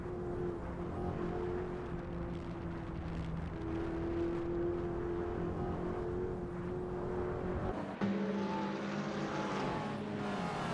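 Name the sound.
racing car engines from a video game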